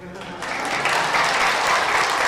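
An audience applauds at a live water-themed magic show, the clapping swelling from scattered hands into a full, sustained round of applause.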